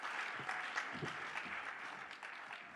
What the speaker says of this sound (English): A bigger round of applause, ladies and gentlemen.